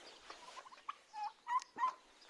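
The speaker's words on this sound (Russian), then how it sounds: "Индюка мы назвали Дима." A turkey gobbles close by, a rapid burst of warbling, throaty calls rising in short pulses, with no talking.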